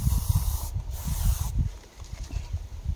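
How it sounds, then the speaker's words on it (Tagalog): Bug spray hisses from an aerosol can in two bursts, close and fairly loud, outdoors in a mosquito-filled forest. "kailangan mo na mag-spray ng bug spray."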